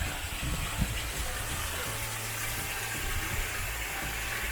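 Water flowing out of a small cave at a natural falls site in Oklahoma, a steady gushing rush with a low rumble underneath, close and continuous.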